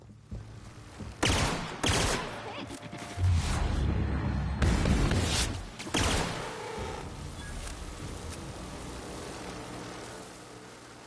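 Energy weapons discharge in the sci-fi video game The Outer Worlds, with several loud, sharp blasts early on followed by a rumbling boom and a fading tail.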